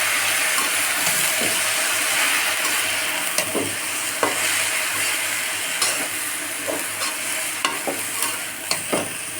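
Red amaranth greens are stirred and fried in a pan, giving a steady loud sizzle with repeated sharp scraping knocks of a spatula against the pan, close and continuous without voices.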